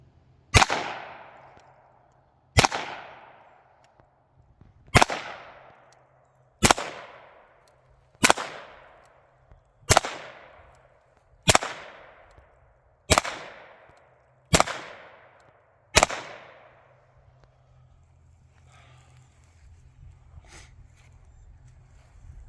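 A Ruger Mark III pistol fires nine sharp, evenly spaced shots about two seconds apart, each crack loud and close with a short ringing decay, followed by a quieter stretch of ambient noise.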